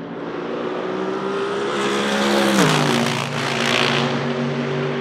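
A Mercedes-AMG GT3 race car with its engine mounted behind the front axle roars past. The steady, loud engine note holds with a clear pitch drop as it passes, then continues alone.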